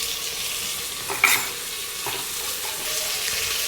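Mint and coriander leaves fry in oil in a one-pot chicken biryani, giving a steady close sizzle with a brief stir clatter near the start.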